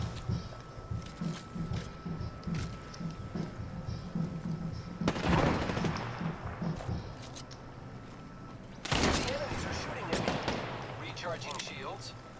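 Gunfire in a battle royale video game, with sharp bursts of shots around the midpoint and again near the end over a busy game soundscape, while a player talks throughout.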